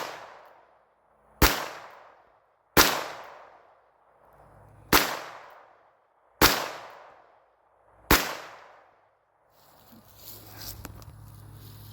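Five sharp gunshots from a Heritage .22 Magnum revolver ring out outdoors at steady intervals of about one and a half seconds, each loud crack trailing into a short decay, followed by faint rustling.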